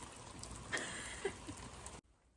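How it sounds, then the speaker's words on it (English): Hail patters steadily outdoors during a changeable spring shower, a dense continuous hiss with a few sharper impacts, cutting off abruptly near the end. "Oh look, it's hailing."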